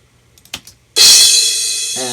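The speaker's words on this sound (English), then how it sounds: "here's the crash" A crash cymbal sample bursts in loudly after a few faint clicks, washing bright and sustained before slowly fading.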